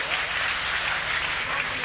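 An audience at a Hindi poetry gathering in Ayodhya claps steadily, forming a dense, even wash of applause with no pause across the short stretch.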